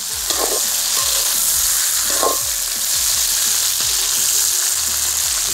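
Fried brinjal tossed into a pan of sizzling onions and chilies, a loud constant crackling fry with scraping stir strokes throughout, close and unaccompanied by talk.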